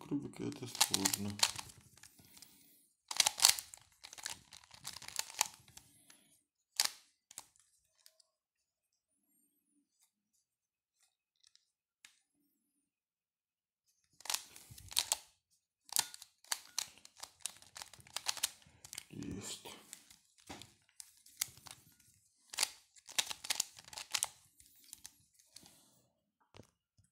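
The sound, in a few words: Rubik's cube being turned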